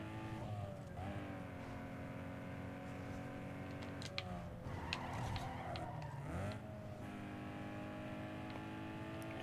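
Peugeot car in Need for Speed Underground 2 racing, a continuous revving engine with shifting pitch and brief tire skids, loud and close throughout.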